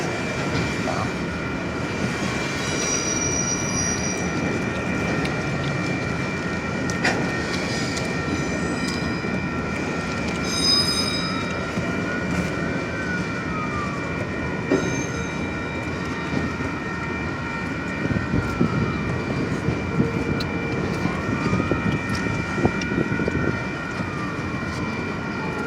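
A Union Pacific manifest freight train rolls into a rail yard, a steady low rumble of moving cars with sustained high tones and faint squeals and clanks drifting over it at a moderate distance.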